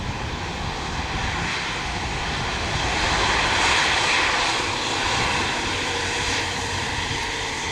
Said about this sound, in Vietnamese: từ Sydney về đến sân bay Tân Sơn Nhất là dòng máy bay Airbus A350-900 và máy bay đang hạ cánh trên đường băng 25 phải